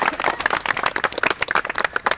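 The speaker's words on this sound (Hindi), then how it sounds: "ताली बजाओ उसके लिए" A group claps for a student at a Veer Sainik military training centre in India, with dense, steady applause running close and loud throughout without pause.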